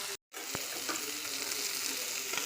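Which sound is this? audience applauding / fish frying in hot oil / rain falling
fish frying in hot oil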